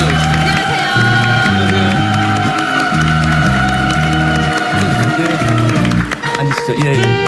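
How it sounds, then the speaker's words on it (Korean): A TV studio audience welcomes a guest with loud sustained applause and cheering, mixed with whoops, while upbeat music with a steady beat plays throughout. "큰 박수 맞아주세요."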